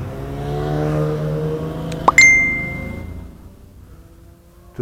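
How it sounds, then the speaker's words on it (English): Cars pass along a road during a Kymco maxi scooter group ride in Vigan, one engine swelling close by then fading away, with a sharp metallic ding midway and quiet after. "here comes some cars"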